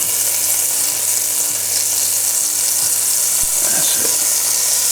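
Chopped leeks, onion and carrots sizzling loudly in a hot pan for soup, a dense continuous frying hiss close up, with a few soft stirring knocks near the end.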